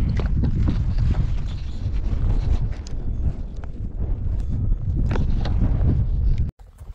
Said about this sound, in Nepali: हावा आउनु थाल्यो।